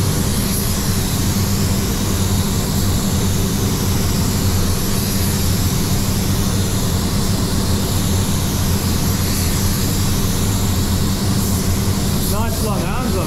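A spray gun applies paint to a panel of a red Honda CR-V in a body shop, a loud continuous hiss that stays steady and close for the whole stretch.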